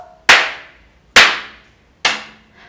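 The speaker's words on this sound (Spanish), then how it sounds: "tres aplausos" Three sharp hand claps ring out alone at an even, slightly slow pace, each a bright crack with a short decaying tail, as a steady beat for a preschool arts movement exercise.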